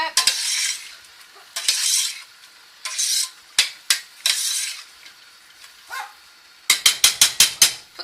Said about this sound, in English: Give it all a stir.